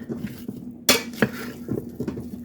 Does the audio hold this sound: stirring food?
yes